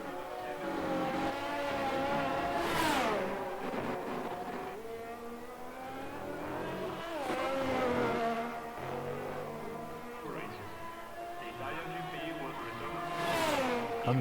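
An F1 race car engine screams through a lap in the F1 23 racing game at Imola, rising in pitch through each gear, dropping sharply at the shifts, and climbing again. The whine is loud and close throughout.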